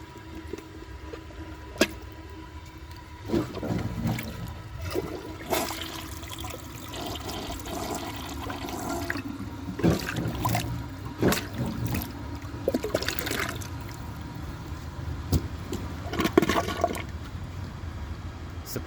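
A 1999 Porcelamex toilet flushes with a rushing gurgle of water, sloshing and trickling throughout, with sharp clunks and surges rising and falling over the length of the flush.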